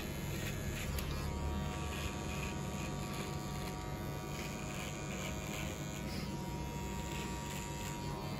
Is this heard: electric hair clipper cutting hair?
yes